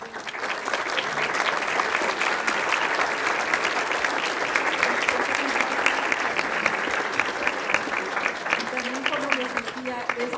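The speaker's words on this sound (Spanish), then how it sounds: "démosles un aplauso a Mari" Sustained audience applause at a film screening event in a cinematheque, a dense, steady wash of many hands clapping throughout, with some voices and cheers mixed in toward the end.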